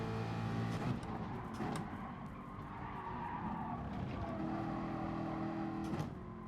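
Race car in Gran Turismo Sport, with an Alfa Romeo among the field during an FIA warm-up, revving and skidding steadily throughout, with tyre squeal and engine roar close and loud.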